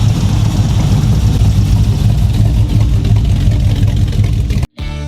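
A 1985 Chevrolet Silverado squarebody C10 hot rod truck runs loudly and close by, its deep engine rumbling steadily and revving before cutting off abruptly near the end.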